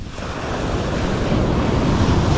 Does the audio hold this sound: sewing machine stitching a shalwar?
no